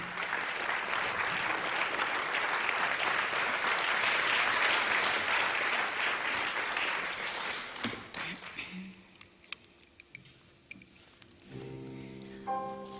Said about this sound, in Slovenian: Lepo prosim za aplavz Poloni Juh.